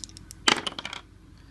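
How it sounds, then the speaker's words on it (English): Two dice rolled for a tabletop golf game, a quick clattering burst of hard small objects tumbling and bouncing on a surface, close, settling within about half a second. "From the fairway and rough, we roll 2 dice"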